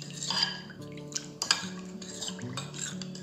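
A spoon stirring masala buttermilk with chopped coriander and ginger in a steel vessel, giving soft clinks and swishing scrapes with a couple of sharper taps, close and quiet with no talk.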